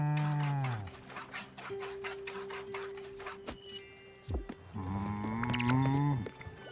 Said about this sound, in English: Let's go milk some cows.